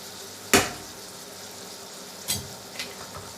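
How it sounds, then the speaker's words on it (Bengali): Onions frying in oil over high heat in a frying pan, a low steady sizzle broken by one sharp clatter early on and a couple of softer knocks later. "এই যে এখানে একটা ফ্রাই প্যানে করে পেঁয়াজ দিয়ে তেল দিয়ে ভেজে নিচ্ছি"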